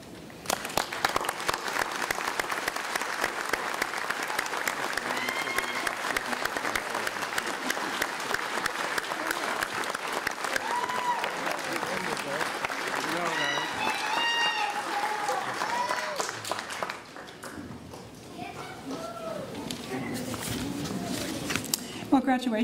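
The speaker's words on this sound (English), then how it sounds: "please rise and let's give them a round of applause" A graduation audience rises and applauds the graduating students with sustained, dense clapping. A brief dip near the end is followed by renewed applause, and voices murmur through the crowd.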